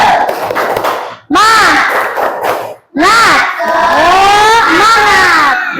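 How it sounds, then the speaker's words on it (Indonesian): Primary school class doing a rhythmic clapping chant in a classroom, children shouting in unison in loud bursts separated by brief claps and short gaps, close and energetic. "coba tepuk semangat."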